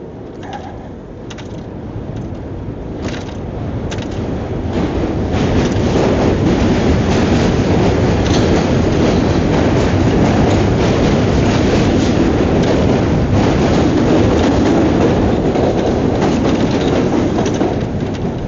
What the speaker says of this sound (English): That was the D train crossing from Brooklyn into Manhattan.